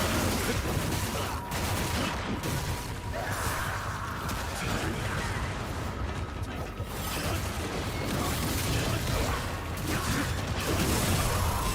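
Rockets fire in the Ninja Gaiden game on Master Ninja difficulty amid a dense, loud wash of explosive bursts, whooshes and mechanical clatter that runs without a break for the whole stretch, with no talk.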